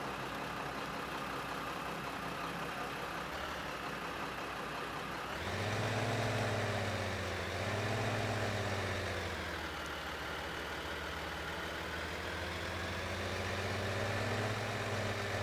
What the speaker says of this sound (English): I'm going to move this truck, though.